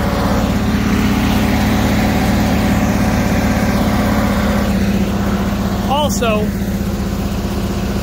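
A farm engine runs steadily while corn silage is chopped in Nebraska, a constant loud droning hum with low rumbling throughout, and a person speaks briefly over it.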